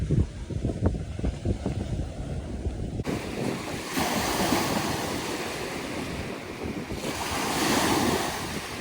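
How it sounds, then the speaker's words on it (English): Strong waves breaking on a beach at the southern tip of Canada, a continuous roaring surf with swelling crashes, mixed with heavy wind buffeting the microphone, loud and close with no voices. "The waves are really strong."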